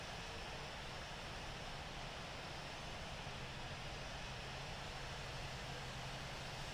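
An airliner takes off from runway 27 left at London Heathrow in the Infinite Flight flight simulator, a steady, unbroken engine roar that holds at the same level throughout with no voices.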